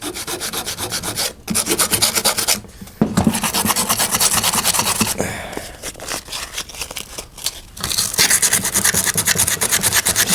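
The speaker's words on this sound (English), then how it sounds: "Just trying to get some of the thick rust off of here." Thick rust being scraped off a metal arcade part during a Journey cabinet coin door restoration, harsh rhythmic rasping strokes in loud bursts separated by brief pauses, close and alone without talk.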